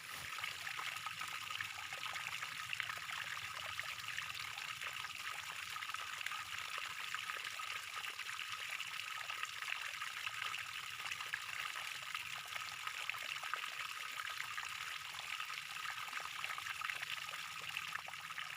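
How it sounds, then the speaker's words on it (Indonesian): Water being poured to make plum-infused water, a steady soft trickling stream that runs quietly and evenly throughout without a break. "Terakhir, tambahkan air secukupnya."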